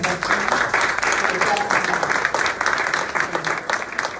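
An audience at a Catholic university students' gathering applauds in a dense, steady burst of many hands clapping together, close and loud for several seconds.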